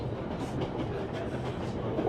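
A train rolls along the rails in the video game 11-11 Memories Retold, a steady low rumble with faint rhythmic clatter at moderate volume and no voices.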